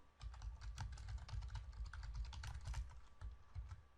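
Rapid, steady typing on a computer keyboard while writing PL/SQL code for an Oracle database, dense clicking keystrokes close by and continuous, with no talking.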